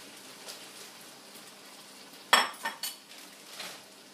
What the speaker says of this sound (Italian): Aggiungete quindi le zucchine.